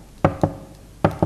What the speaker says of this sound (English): I knock on the door, there's no answer.